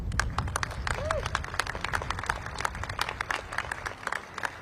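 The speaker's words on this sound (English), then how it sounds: "I'd like to give a big round of applause for our advisory board members who are here today." An outdoor crowd at the City Hall Plaza reopening and ribbon cutting claps for disability advisory board members: sharp, scattered claps at close to moderate distance, with a little voice and cheering mixed in.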